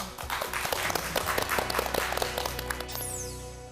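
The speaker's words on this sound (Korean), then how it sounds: "다시 한번 뜨거운 박수 부탁드리겠습니다" A studio audience applauds a lecturer after a talk for job seekers, with dense, sustained clapping from many hands that holds steady and then begins to thin at the end.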